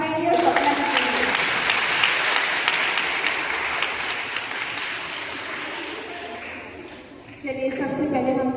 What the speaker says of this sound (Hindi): एक बार जोरदार तालियां अपने लिए